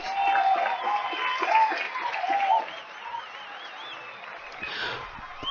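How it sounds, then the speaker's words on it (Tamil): Audience applause and crowd noise at a Tamil stage singing contest as a contestant is called up, a loud burst of clapping that fades after a few seconds into a quieter hall. "உங்களுடைய பலத்த கரகோஷத்தோடு அந்த போட்டியாளரை மேடைக்கு அழைத்து வாருங்கள்"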